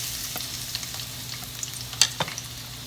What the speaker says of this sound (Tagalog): now we are going to put an oil in our frying pan or wok. As usual, we are just going to add our garlic